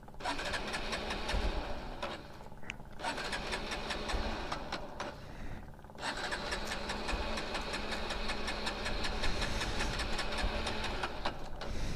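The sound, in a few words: motorcycle engine being started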